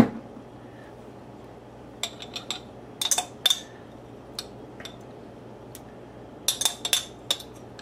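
Dijon mustard and horseradish being stirred together in a bowl, giving scattered light clinks and scrapes of a utensil against the dish in small bursts, fairly quiet and with no talking.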